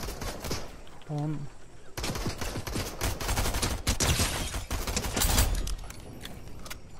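Rapid bursts of automatic gunfire crackle through a Fortnite match, loud and sustained over several seconds with a brief pause, while someone speaks German over it.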